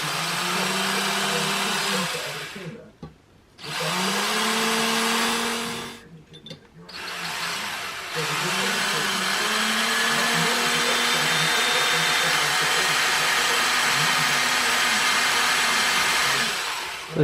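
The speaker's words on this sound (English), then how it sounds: "So you can see I'm just drilling at different angles here" Power drill boring into plastic steel filler on the lid of an RD350LC brake master cylinder, a steady whining motor run in bursts with two short pauses, then one long continuous stretch, close and fairly loud.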